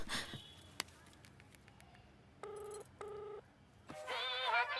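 A phone rings with two short electronic tone bursts followed by a louder warbling ringtone, against a quiet room.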